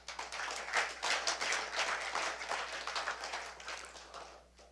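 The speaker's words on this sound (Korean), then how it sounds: "박수 한번 쳐주십시오." Audience applauding at a lecture, a brief burst of scattered hand claps that swells and then fades over a few seconds, fairly faint and heard without talk.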